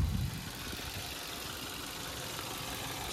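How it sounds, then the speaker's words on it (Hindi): A Maruti Ritz car engine idles right after starting, a steady low rumble that stays quiet and even after a brief louder burst at the start of cranking. "अभी स्टार्ट करते हैं इंजन को and we crank the engine"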